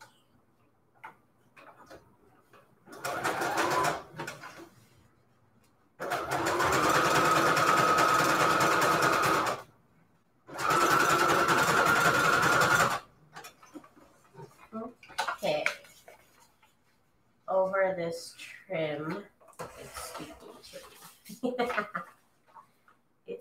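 Sewing machine stitching lace onto one edge of fabric, heard in two long steady bursts of several seconds each with short pauses, followed by people talking.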